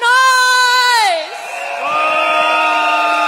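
A crowd at a PAP general election rally in Bedok Stadium, Singapore. A drawn-out amplified shout fades into loud, sustained cheering and whooping from many voices.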